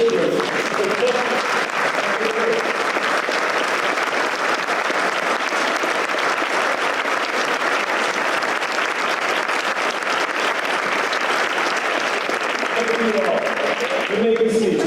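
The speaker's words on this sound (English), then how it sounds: "please stand and join me in a round of applause, in a show of appreciation for Chet" A standing audience at an annual meeting of a community partnership gives a long ovation, dense sustained clapping that stays loud and steady for about fifteen seconds, with brief voices near the start and end.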